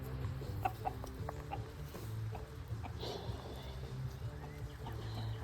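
A small flock of chickens and roosters clucks and murmurs continuously, with scattered sharper calls over a low steady background.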